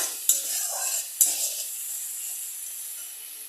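Onions sizzle softly in a pan for a katla fish curry, with two sharp scrapes of stirring near the start before the hiss settles and fades.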